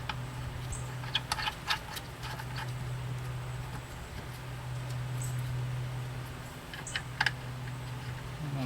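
Scattered light metallic clicks as nuts are threaded and tightened onto the master cylinder bolts of a Ford Mustang, over a steady low hum.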